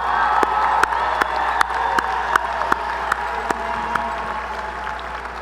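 A university commencement crowd gives the graduates sustained applause, a steady wash of clapping broken by sharp individual claps and occasional cheers.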